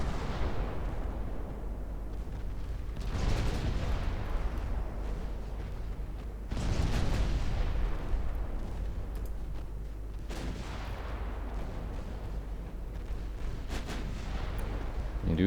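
Warship main and secondary guns firing in Ultimate Admiral Dreadnoughts, a naval battle with 1950s battleships: heavy booms sound at long intervals over a constant low rumble, each trailing off in a long roll.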